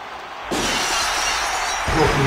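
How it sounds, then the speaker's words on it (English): Glass shattering in a WWE wrestling video game, the cue for Stone Cold Steve Austin's entrance: one sudden loud crash that becomes a sustained bright wash of breaking glass, with crowd noise and a voice underneath. "Broken glass."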